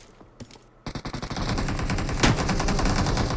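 Automatic gunfire in the shooter game PUBG Mobile: a few scattered shots, then a loud, dense, sustained burst of rapid fire that keeps going, with no voices over it.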